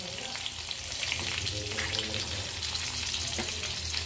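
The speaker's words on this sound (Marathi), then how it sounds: "सगळ्या मिरच्या मी आता कढईमध्ये तेलामध्ये घातलेल्या आहेत." Chillies sizzle and crackle in hot oil in a wok, a steady bright frying hiss at moderate level, with faint stirring and no talk.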